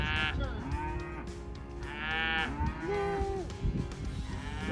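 Several cows moo in long, drawn-out calls, one after another, fairly close and at moderate volume with no talking.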